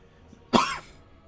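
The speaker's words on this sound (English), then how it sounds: "I did not manage to mute in time for that cough." A single sharp cough bursts out close to the mic during a modded Total War: Warhammer III game session, brief and loud over faint background, then fading quickly.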